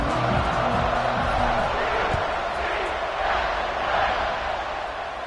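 A college football stadium crowd at a UCF versus Clemson game roars before kickoff, a loud continuous wash of cheering with a few brief thumps, and a commentator's voice under it at the start.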